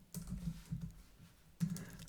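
Computer keyboard typing during a git tutorial, soft clustered keystrokes in a few bursts with a brief pause, then a firmer flurry of key taps near the end, close and quiet with no talking.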